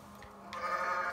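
A goat in the Goat Simulator game gives a single short, nasal bleat that rises partway through, heard close and clear with no talking.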